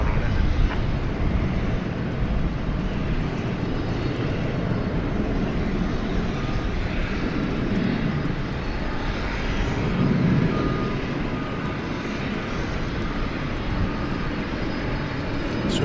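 An MD-11 taxiing at night at DFW Airport gives a steady, low engine rumble and whine, moderately near and even in level, with a faint voice now and then beneath it.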